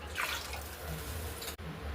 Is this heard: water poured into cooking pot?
yes